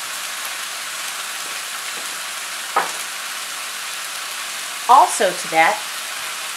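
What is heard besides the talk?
minced garlic and onion frying in pan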